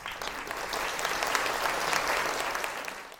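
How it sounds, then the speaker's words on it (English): An audience at a launch event for a new anti-stalking organization applauds its supporters with steady, dense clapping that swells slightly midway and tapers off at the end. "Round of applause for you."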